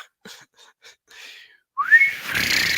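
A voice imitates the whistling noise of a whistling butt plug: short breathy tones followed by a loud rising whistle that holds as a sustained hiss.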